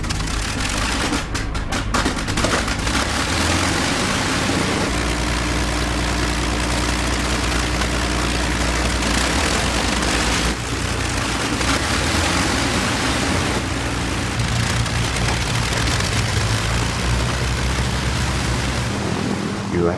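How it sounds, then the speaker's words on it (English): Four Rolls-Royce Merlin engines of a Lancaster bomber run together in a loud, steady, deep drone that continues without a break, close and heavy throughout. "once you have them synchronised, they just purred. Music to the ears. The sound of 4 Merlins"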